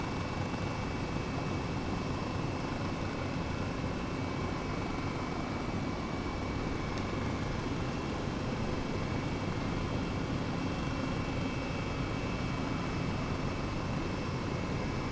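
Airbus H135 helicopter in Microsoft Flight Simulator, a steady broadband rotor and turbine roar that stays loud and unchanging throughout, with no voices.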